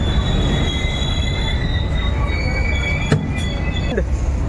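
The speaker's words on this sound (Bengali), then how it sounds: "এই মুহূর্তে train Rampurhat junction railway station এসে পৌঁছলো" A train rumbles steadily into Rampurhat Junction station in India, high wheel squeals ringing over the heavy rolling noise, with a couple of sharp metallic clanks.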